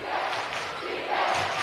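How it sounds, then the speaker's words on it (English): A high school student section at a boys basketball game between Westlake and Cedar Valley chants and cheers for the defense, a steady rumble of massed voices in a gym, rising slightly near the end. "The student section cheering on the D."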